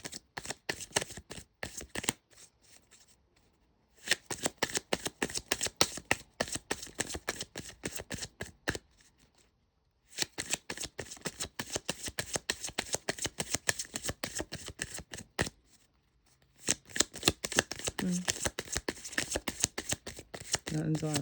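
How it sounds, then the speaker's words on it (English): Tarot cards are shuffled again and again in rapid riffling bursts, each run of quick snapping flutters separated by brief pauses. "I shuffle like 20 times."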